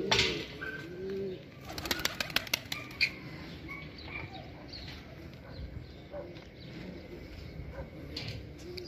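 Pigeons around a house in a city neighbourhood, with a burst of wing flapping early on and soft cooing and bird calls continuing over outdoor background noise, without talk.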